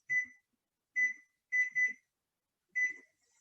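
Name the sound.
kitchen timer beeping as it is set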